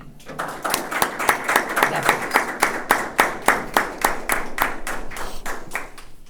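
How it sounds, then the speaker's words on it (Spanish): Applause at a literary event for writers Ricardo and Norberto; a modest audience claps in a steady, rhythmic, close pattern for about six seconds. "yo le pido en este caso un aplauso a Ricardo y otro a Norberto"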